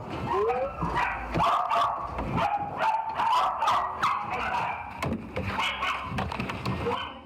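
Several puppies bark, yip and whimper in kennel boxes at a dog dealer, sharp close barks repeating in a busy, overlapping stream with clanks throughout.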